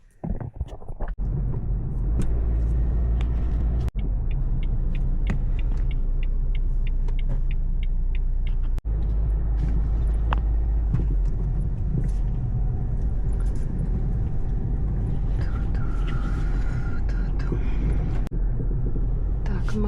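Car driving, heard from inside the cabin: a steady low road rumble throughout, with someone talking over it.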